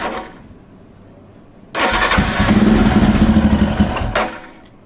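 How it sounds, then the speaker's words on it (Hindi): A Royal Enfield Himalayan motorcycle engine, carburetted, idles and misfires: a quiet rumble swells abruptly into a loud, uneven, chugging run for about two seconds, then drops back down. "देख रहे हैं आप बाइक आइडल कर रही है लेकिन मिस कर रही है"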